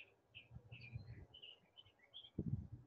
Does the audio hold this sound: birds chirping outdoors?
yes